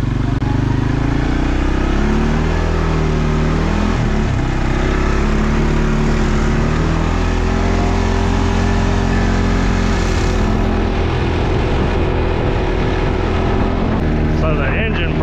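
A four-wheel-drive off-road vehicle's engine drones steadily while driving in high range, its pitch shifting as it slows under engine braking, loud and close throughout, with a brief rattle near the end.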